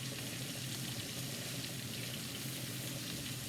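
Kitchen tap water running steadily in a home cooking setting, a continuous broadband rush at moderate level with a faint hum beneath, no talking.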